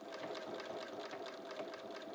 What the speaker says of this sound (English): Go to sew down each side.